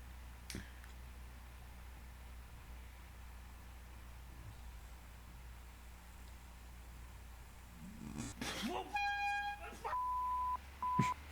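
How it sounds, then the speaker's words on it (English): A short, loud horn blast with steady harmonic tones cuts in near the end, followed by a second sustained honk, after a long quiet stretch. "This is a f***ing air horn."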